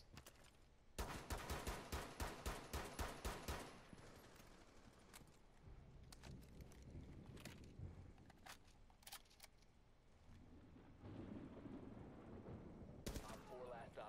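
Rapid automatic gunfire in a first-person shooting game, a loud fast burst of evenly spaced shots followed by scattered single shots and further bursts against game ambience.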